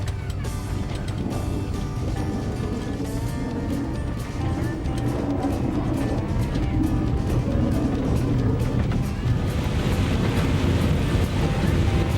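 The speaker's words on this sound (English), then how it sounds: "The train approaches the platform switch for the passing loop" A steam train rumbles and clanks along the tracks on a mountain railway, a loud continuous mechanical roar with rhythmic clatter that grows fuller toward the end as it approaches a passing-loop switch.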